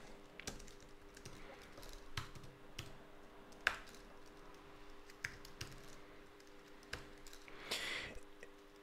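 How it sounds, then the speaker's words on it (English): Someone types a Shopify app-create command on a computer keyboard, giving quiet, scattered key clicks with a few sharper taps in an otherwise still room. "I want to type in Shopify app create"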